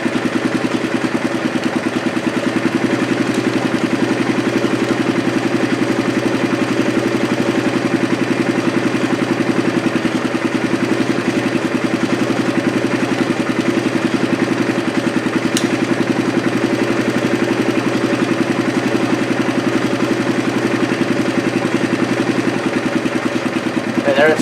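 A 1984 Honda ATC 200M three-wheeler with a freshly rebuilt carburetor idles steadily and a little fast, a continuous low mechanical drone with light clatter throughout.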